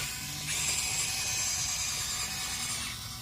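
Continuous clattering and grinding of the small metal tracks of a Huina toy excavator rolling over rough ground, with a high mechanical whine from a motor, fairly close.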